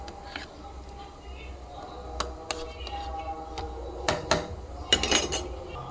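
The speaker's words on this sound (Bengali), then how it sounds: "একটু চামচ দিয়ে গুলিয়ে দেবো তেলটা" A spoon clinks and scrapes in a pan while stirring oil for a steamed hilsa dish, giving a few sharp metallic taps over low kitchen background noise.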